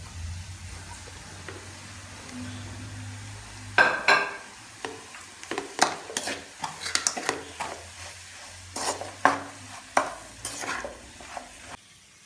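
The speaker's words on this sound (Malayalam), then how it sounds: "മസാല നന്നായി മൂത്തതിന് ശേഷം അതിലേക്ക് നമ്മൾ പൊടിച്ച് വെച്ച പൊട്ടറ്റോ ഇടുക." Mashed potato being stirred into fried masala in a pan, a soft sizzle underneath with a steady run of scraping and clinking spoon strokes against the pan, close and fairly quiet.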